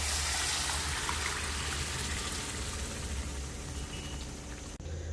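Cowpea cooking water poured into a pan of spiced masala that has released its oil, a soft continuous watery gush and sizzle that fades before ending with a small clink.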